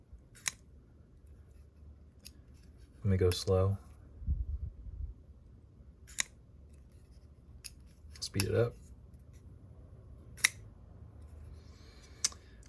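A CRKT Q frame lock knife with IKBS ball bearings is opened and closed several times, giving sharp close clicks and brief faint mechanical rasps between quiet gaps, while someone talks briefly.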